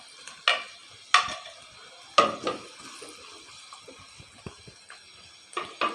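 Ginger is stirred into onions cooking in a pan for homemade boondi: soft sizzling broken by a few sharp scraping stirs at irregular intervals, close up and with no talk.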